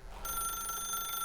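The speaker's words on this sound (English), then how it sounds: "but the phone is indeed ringing." A telephone rings in the video game The Stanley Parable, a steady electronic ring tone that starts after a brief quiet moment and holds at a moderate, even level throughout.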